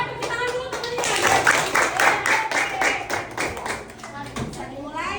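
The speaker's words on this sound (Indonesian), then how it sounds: "Coba tepuk tangan dulu teman-teman." A group of friends clapping their hands in a classroom-style activity, a fairly close, uneven patter of claps with some rhythmic bursts, with voices mixed in beneath.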